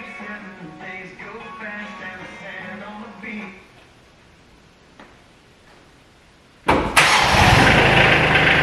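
A Kioti CK2610 tractor cranks with rapid clicking, then the engine catches with a sudden loud, roaring start and keeps running steadily, close by, after a voice speaks over the opening seconds.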